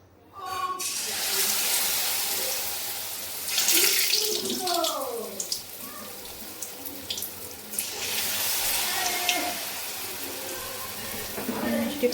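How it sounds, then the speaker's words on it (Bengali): Spiced pumpkin pakoras frying in hot oil, a steady loud hiss and crackle with bubbling bursts that swell and ease throughout, close up, with no talking. "এটা ভেজে নিই পকোড়া"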